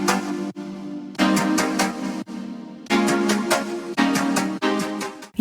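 Two layered chord synth parts stacked for a K-pop chorus, sounding as bright, airy sustained chords in rhythmic bursts with short gaps between them, loud and close with no voice over them.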